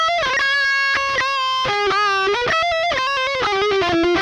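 An electric guitar plays a solo, a loud, sustained run of single notes with bends and quick legato changes, heard alone without talking.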